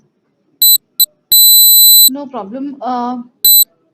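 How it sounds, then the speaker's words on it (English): Loud electronic beeps cut into an online call, coming as two short chirps, a long sustained tone and a final short beep, with a voice briefly speaking between them. "there's too much beeping sound"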